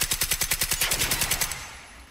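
Rapid automatic gunfire in the video game Generation Zero, a burst of about a dozen evenly spaced loud shots, then a short fading echo.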